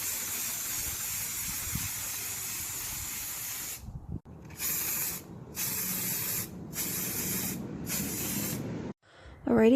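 Primer sprayed from a can onto a vanity table, a steady hiss first, then several short bursts separated by brief pauses, close and fairly quiet with no talking.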